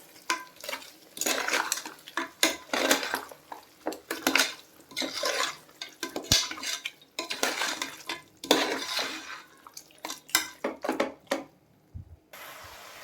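Goat head meat stirred into masala in a pan for thalakari kulambu, with repeated scraping and clattering of a spoon against the pan in uneven bursts throughout, close and fairly loud, no talking.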